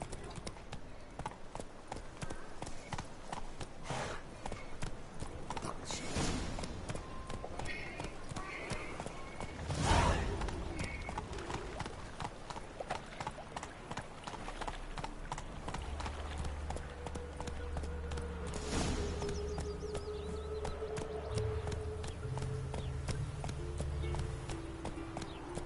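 Roach the horse clops along in The Witcher 3, steady hoofbeats in a rhythmic gallop, then slowing, with game ambience and faint voices underneath.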